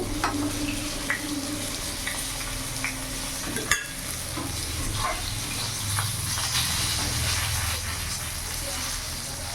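Pieces of katla fish fry in hot oil in a pan with a loud, continuous sizzle, broken by occasional utensil scrapes and one sharp click partway through.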